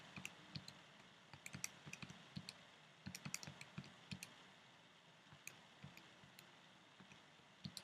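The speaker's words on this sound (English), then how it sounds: "we're going to type in all of our x values" Fingers tap values into a calculator keypad, a quick irregular run of small, faint clicks close by with brief pauses between bursts and no talking.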